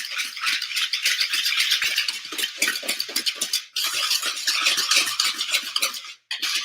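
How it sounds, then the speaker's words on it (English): Granulated sugar being whisked in a bowl with a steady, fast rattling scrape that runs continuously and fairly loud, with only a brief pause near the end. "And then whisk those 2 things together until it's nice and smooth."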